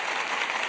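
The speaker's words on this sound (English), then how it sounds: "We'll give you a little intense applause." A dense, steady wash of applause sound effect on a live sports-betting talk show, even and continuous like rain, played alone without talk.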